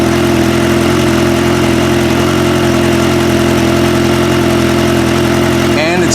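A Kawasaki Ninja H2 motorcycle fitted with a Power Commander V idles loudly and steadily close by, a constant droning engine hum, with a faint brief voice near the end.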